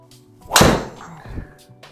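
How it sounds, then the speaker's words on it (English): A golf club striking a Titleist Pro V ball on a driving test, one sharp loud impact near the mic followed by a brief fading tail. "5th and final shot with our Pro V."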